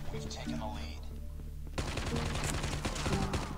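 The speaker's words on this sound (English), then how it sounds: "Someone's shooting at me." Rapid automatic gunfire aimed at the player in Call of Duty bursts in suddenly, loud and continuous, after a quieter stretch of game ambience and a voice.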